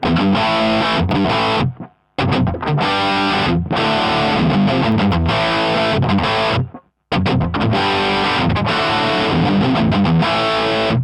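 A heavily distorted electric guitar through a Line 6 Firehawk FX chugs through loud riffs with two short pauses, EQ cut around 3 kHz, sounding slightly scooped and less harsh in the upper mids.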